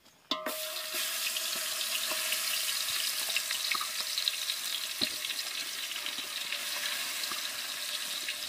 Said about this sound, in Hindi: अब हम चिकन डालेंगे।